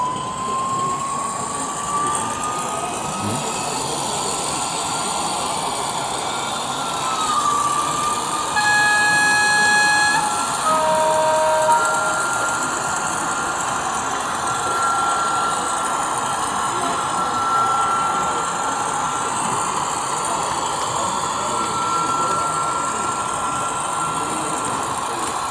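A 1:32 scale model locomotive with a sound decoder runs toward a turntable, giving a steady mechanical rumble with rising whine and several long horn or whistle tones, sustained and fairly close throughout.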